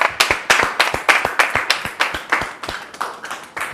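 An audience claps to welcome a guest onto the stage, with sharp hand claps landing in a quick, steady rhythm, loud and close.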